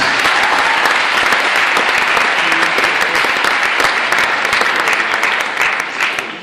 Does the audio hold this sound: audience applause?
yes